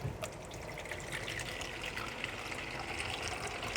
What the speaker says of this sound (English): Let's add a little water more so that we can begin to cook.